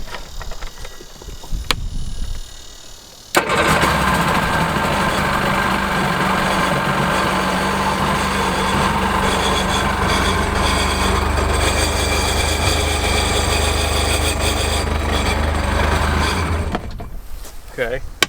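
An old personal watercraft engine starts up and settles into a loud, steady idle that runs for over ten seconds before shutting off, with a voice audible near the end.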